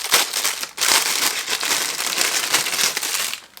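Plastic wrapping crinkles and crumples steadily as a parcel of manga merchandise from Kazé is torn open, a close, continuous rustle with brief pauses and no talking.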